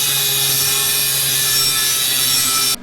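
Metal tubing for a truck headache rack being cut with a steady, loud, continuous grinding rasp close up, stopping abruptly at the end.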